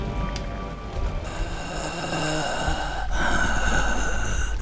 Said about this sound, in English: The uncomfortable sound of rain.